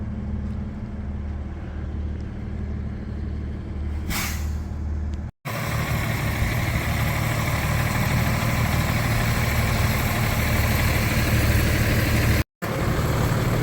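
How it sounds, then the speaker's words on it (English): A Lowe's delivery truck idles nearby with a steady, heavy low rumble. A short hiss sounds partway through, and the engine drones on loudly and continuously, with no talk. "I got a Lowe's truck making all that noise."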